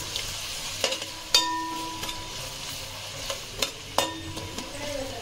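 Onions and green chilies fry in a pan for chicken curry with a soft steady sizzle, while a spoon scrapes and knocks against the pan in sharp intermittent clinks as the mixture is stirred.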